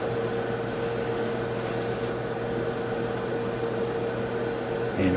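An air fryer runs while cooking, a steady loud whirring fan hum with a constant tonal drone, unbroken until a small shift right at the end.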